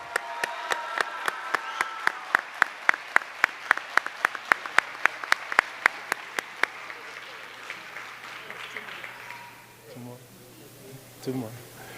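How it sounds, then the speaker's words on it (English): Clapping for graduates at a Waukegan High School summer promotion ceremony, a sparse run of sharp distinct claps close to the microphone that fades out, followed by brief talk. "Let's give all of our graduates one more big round of applause."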